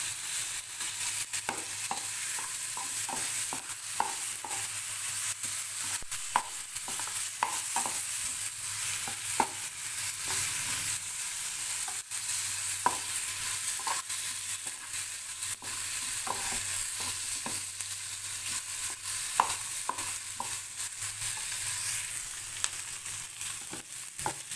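Ginger garlic paste and onions fry in a pan for a taro curry (chamadumpala pulusu), giving a steady, close sizzle broken by repeated scraping stirs of a spoon, with no talking.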